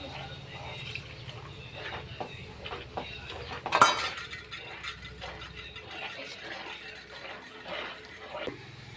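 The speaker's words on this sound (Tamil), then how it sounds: "கட்டி படிக்காத அளவுக்கு கிண்டிக்கிட்டே சிம்மில் வச்சுக்கணும்" A utensil stirs a mixture in a pan over low heat for a Tamil sweet, making steady scraping and light metallic clinks up close, with one louder clatter midway over a low background hum.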